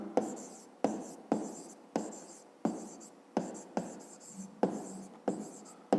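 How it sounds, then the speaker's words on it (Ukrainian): Pen or pencil strokes writing out the answer to a fifth-grade math exercise about the edge length of a cube, a steady series of about nine close, crisp scratching bursts with brief pauses between them and no talking. "Ну і записуємо тоді відповідь."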